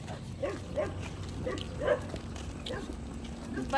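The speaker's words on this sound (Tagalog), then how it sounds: "May mga aso." Dogs bark in a series of short, sharp yaps at a moderate distance, several spaced barks over a few seconds with faint voices and background murmur.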